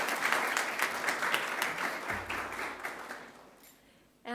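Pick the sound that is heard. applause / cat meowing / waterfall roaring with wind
applause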